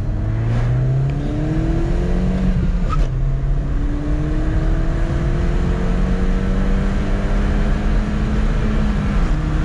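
A Mini Cooper S Turbo accelerates hard in Sport mode, its engine note climbing through rising, falling and rising revs across gear changes. The sound is loud, close and continuous with no talking.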